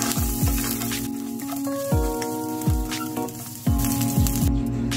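Golden-brown food sizzles steadily in a frying pan while a utensil stirs it, leaving a series of brief scraping sweeps over the hiss, with a faint steady tone in the background and no talking.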